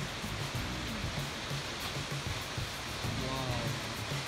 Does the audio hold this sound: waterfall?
yes